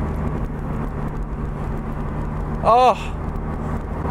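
A Maserati MC20 Cielo in sport mode accelerates on a race track. Its engine gives a steady, loud drone with a brief rising whine near the end, and someone talks excitedly over it.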